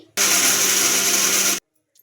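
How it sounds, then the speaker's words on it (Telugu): A mixer grinder grinding chutney whirs loudly in a single steady burst of about one and a half seconds, then cuts off abruptly into silence. "ఇంకా ఇప్పుడు మూత పెట్టేసుకొని గ్రైండ్ చేసుకోవాలి"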